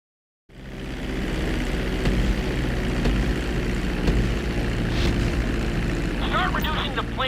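Steady propeller-aircraft engine drone from a plane coming in to land in GTA 5, a continuous loud hum with rumbling low end that holds level throughout, with faint chirpy game sounds near the end.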